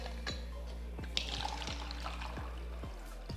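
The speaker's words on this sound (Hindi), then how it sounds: "तो इसमें लेते हैं पानी जितना कि लिखा है" Water poured from a bottle into a plastic vaporizer steamer, a light trickling splash over a low steady hum with regular ticking clicks.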